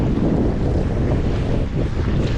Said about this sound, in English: It's gonna be too windy to go ashore.